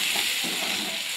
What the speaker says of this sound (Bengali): এখন আমি ঝাল লঙ্কার গুঁড়োটা আমি আগে ভাগে দিয়ে দিচ্ছি